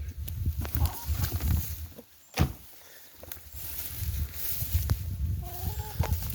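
Free-range chickens cluck softly and intermittently close by, mixed with footsteps and a door-like knock in the middle, over a steady low outdoor background without speech.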